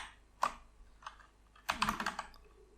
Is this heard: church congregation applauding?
no